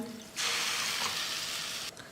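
Water is poured from a cup onto sugar in a pan in a single steady stream for about a second and a half, a close rushing splash that stops abruptly.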